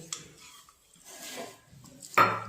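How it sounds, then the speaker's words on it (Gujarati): Lumps of jaggery drop into a metal pan for peanut chikki, ending in a sharp, loud clatter after a few quieter scrapes and knocks. "તો હવે આ જે આપણે ગોળ લીધો તો એ ગોળ આપણે અંદર એડ કરી દઈશું"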